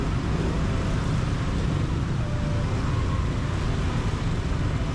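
Busy street traffic in Cambodia, a constant roar of engines and road noise with no single vehicle standing out, loud and unbroken.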